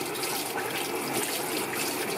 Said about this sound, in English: The brush, just put it under running water and squeeze it.